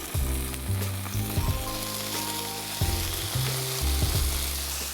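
Halloumi hits a hot pan and fries with a loud, steady sizzle, broken by the scrape and clatter of stirring against the pan.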